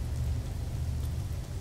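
Steady rain in the video game No Man's Sky, an even, continuous hiss with a low rumbling undertone and no voices.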